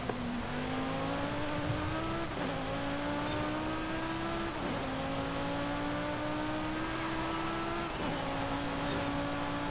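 A Lamborghini Huracán STO in S1 Class in Forza Horizon 5 screams steadily at high revs, each rising pull cut by quick upshifts about every two seconds, loud and continuous with no talk.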